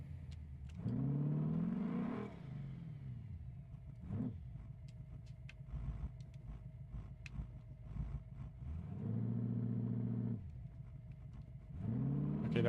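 A car in a video game quarter mile race accelerates in repeated rising engine pulls, each climbing in pitch and cutting off at a gear shift, separated by quieter idling and clicks, moderately loud with no talk.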